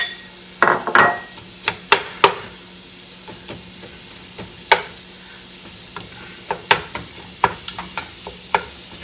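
A pound of Italian sausage frying in a pan, with a soft steady sizzle under repeated sharp scrapes and clacks as a utensil breaks the meat into smaller pieces.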